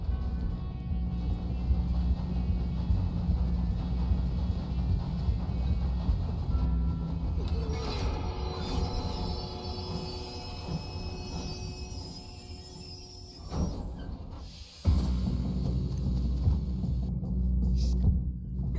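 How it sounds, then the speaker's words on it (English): A steady low rumble and rattle of a moving train in Red Dead Redemption 2, with a sharp metallic whine and a brief thump midway. "We have to stop this train."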